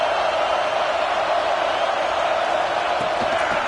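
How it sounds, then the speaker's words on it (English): Stadium crowd at a football game roars in a dense, continuous wash of cheering and noise that stays steady and loud throughout, with no clear break. "Listen to the crowd energy here in the early going."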